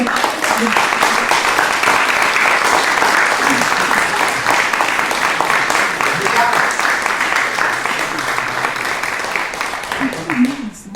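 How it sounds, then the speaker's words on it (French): Conference audience applauding warmly, a long, steady wash of many hands clapping at full volume that eases slightly near the end. "J'aimerais qu'on prenne le temps d'applaudir chaleureusement Myriam et Myriam et le mouvement Jeunes et Santé Mentale dans son ensemble"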